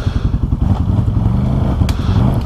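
A Can-Am Outlander ATV engine revs hard and steadily on a rough trail, with close, loud throbbing and clattering as the wheels spin in place.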